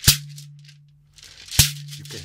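A fiberglass shekere with a deeper tone gives two sharp, close shaken hits about one and a half seconds apart, each with a brief rattling decay, the second followed by more rattle.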